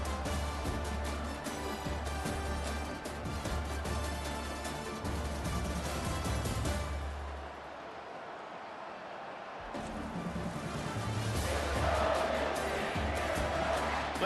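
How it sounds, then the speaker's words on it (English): A stadium crowd roars on third down in a College Football 25 game between Northwestern and Michigan, a broad sustained wall of noise that dips briefly then swells louder, with a commentator talking over it. "Decibels rising as the crowd gets behind this defense on third down."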